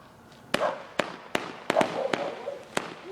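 New Year's fireworks going off outdoors, a string of sharp loud bangs and cracks at irregular intervals, some nearby, with crackling and rumbling in between and faint voices in the background.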